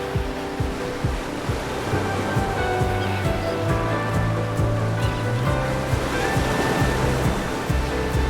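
Ocean surf breaks on the shore of a northeastern coastline, a continuous loud wash of rushing water with rolling churn and no pauses, close by and alone.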